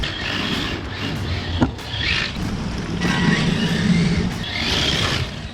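A Tamiya VW Volkswagen van RC car with a Silver Can motor and 1400 mAh nickel metal hydride pack drives past, a steady whirring motor hum with gritty wheel noise and wind, swelling and fading over several seconds.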